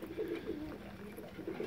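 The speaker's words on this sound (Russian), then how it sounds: "Хорошо полетали голуби." Pigeons cooing at a loft on a good flying day, a soft repeated low warbling coo rising and falling steadily and fairly close, with no talk over it.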